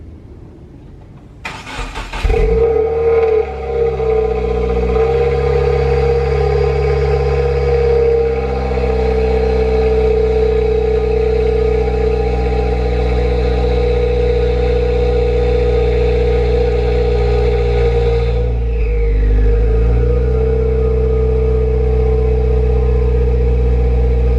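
A 2018 Subaru WRX fitted with a Cobb resonated J-pipe, a Grimmspeed adapter and the stock catback fires up with a sharp crank, then settles into a loud, steady, throaty idle close to the exhaust, with a brief dip in revs near the end.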